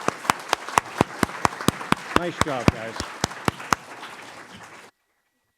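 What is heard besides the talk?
applause for the candidates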